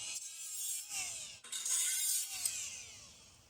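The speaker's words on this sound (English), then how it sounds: "That's grinding." A grinder takes a metal burr off a steel trailer frame. It gives harsh, hissing, abrasive bursts in two close passes with a brief break between them, with no talk.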